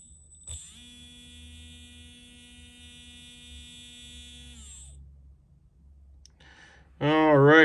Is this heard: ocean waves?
no